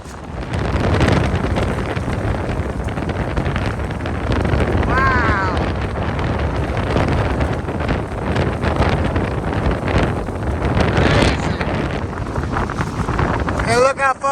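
Strong, steady wind buffeting the microphone throughout, with a low roar and gusts rising and falling, as a person talks over it.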